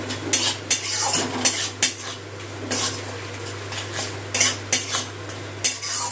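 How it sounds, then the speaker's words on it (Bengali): Mustard paste with turmeric and chili powder being sautéed in a pan for a Bengali katla fish curry, a soft oily sizzle under repeated sharp scrapes and clinks of a metal spoon, close and without talk. "সব গুঁড়ো মশলাটা দিয়ে বাটা মশলাটা কষিয়ে নেব।"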